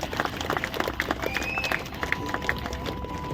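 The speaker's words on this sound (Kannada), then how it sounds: "ಎಲ್ಲರೂ ಜೋರಾಗಿ ಚಪ್ಪಾಳೆ ತಟ್ಟೋಣ." Guests at a golden jubilee celebration of a friends' association in Padubelle clap together to honour Harish Shetty, with scattered, moderately loud applause over a few seconds alongside faint background voices.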